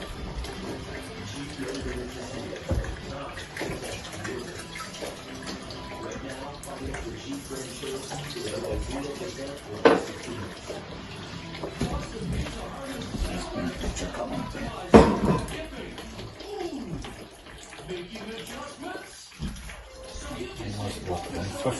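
Water runs steadily from a tap for a long stretch while adding water to a homebrew batch, a continuous splashing rush with occasional knocks and clunks.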